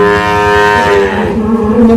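A Simmental cross Ongole bull lowing at a cattle sale, one long loud drawn-out moo that holds steady and then sinks lower near the end, close by and alone.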